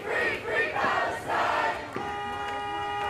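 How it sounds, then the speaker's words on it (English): Large crowd of pro-Palestine protesters chanting in a city street, rhythmic shouted phrases rising and falling for a couple of seconds before a steadier, tonal background takes over. "The huge crowd of pro-Palestine protesters first marched from Forest Park down Skinker to Forest Park Parkway."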